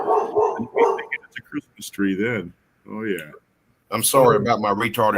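A dog barks a few times at close range, mixed in with a person talking.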